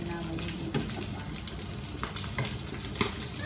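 Beef sticks frying in a pan, a steady crackling sizzle with occasional clinks and scrapes of utensils moving the pieces, and some faint talking in the background.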